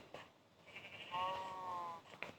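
Sheep in a Minecraft game give a single drawn-out bleat with a clear, steady pitch, fairly loud against a quiet background and heard alone.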